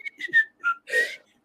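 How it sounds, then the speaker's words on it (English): A person whistles a short, choppy tune of several quick piercing notes with brief gaps, close and clear, with no talking. "If you want me to whistle, I can go."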